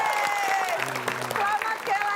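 An audience applauding a quiz winner on stage, with a patter of claps and crowd noise heard moderately close beneath prominent talking voices.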